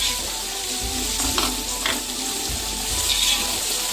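Ground masala of red chilli, salt, turmeric and garam masala frying for beef yakhni pulao, a steady close sizzle with a few soft spoon scrapes and stirs, no talking.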